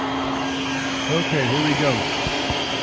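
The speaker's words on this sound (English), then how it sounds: "Try to get some of this vacuumed up. I know it's kind of loud." A vacuum cleaner runs with a steady whine while a fuel pump is being replaced on a 2009 Toyota Corolla, its pitch wavering briefly mid-run as someone speaks a few words over it.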